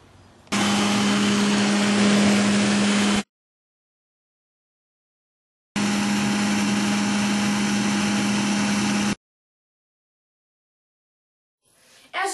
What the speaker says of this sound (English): I will use a leaf blower to generate the high winds needed to cause damage to a structure.